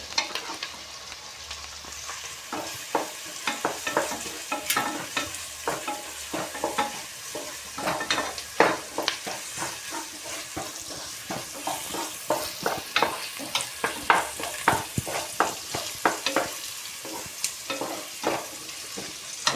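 Onions frying in a pan, crackling and sizzling steadily while a utensil stirs and scrapes in frequent sharp knocks throughout, close and without speech.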